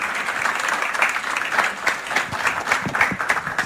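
An audience at an evening talk gives warm, sustained applause to welcome three speakers to the stage. Dense, steady clapping from a large crowd fills the whole stretch at close range.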